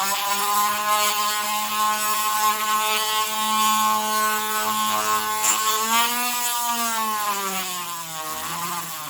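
A rotary handpiece fitted with a burr whines steadily while polishing the exhaust port of a chainsaw cylinder, its high pitch wavering and dipping under changing load, close up and continuous with no talking.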